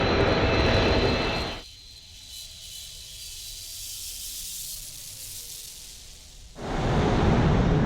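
Passenger jet arriving from Beijing passes at Heathrow airport, a loud broadband engine roar that swells in, then drops to a fainter steady rumble and hiss before surging loud again near the end.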